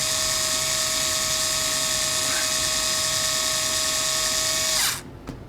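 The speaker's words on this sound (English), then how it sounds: "We took a power screwdriver from Menards that has a built-in battery that can't be removed" A battery-powered screwdriver from Menards with a built-in, non-removable battery runs at a constant high-pitched whine for about five seconds, close and loud, then cuts off abruptly into near silence.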